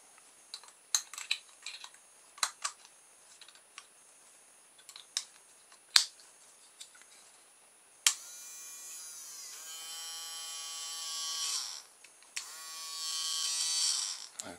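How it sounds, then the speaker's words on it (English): A small battery-powered electric motor from a bargain-store lint remover toy car, heard after several sharp clicks and handling taps, then buzzing loudly up close in two whirring bursts, with no voices. "okay, so we've got an electric motor that works."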